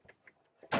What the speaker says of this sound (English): So you start the engine. Of course, it purrs to life.